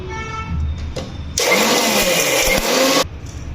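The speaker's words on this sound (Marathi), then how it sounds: "हे मिक्सरला बारीक वाटायचं नाही आहे जाडसरच वाटायचं आहे" A mixer grinder whirs loudly for about a second and a half, coarsely grinding a homemade paratha spice mix, with quieter kitchen noise before and after.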